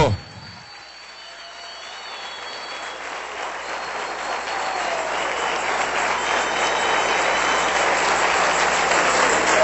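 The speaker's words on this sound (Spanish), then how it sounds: "Dale un aplauso al Rey bendito" Loud, sustained applause from a church congregation swells up after a brief pause and keeps going steadily, dense clapping filling the whole stretch.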